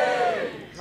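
Theatre audience at Leicester Square Theatre giving a short burst of cheering and whooping, loud at first and fading off quickly.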